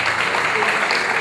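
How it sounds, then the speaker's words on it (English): Applause from guests at an annual dinner dance, a short, dense burst of steady clapping, loud and close, heard briefly on its own. "A round of applause."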